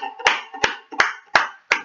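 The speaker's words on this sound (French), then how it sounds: "Applaudissons la parole." Audience applause at a French-language church service, heard as five distinct, evenly spaced sharp claps, close and loud, with brief silence between each.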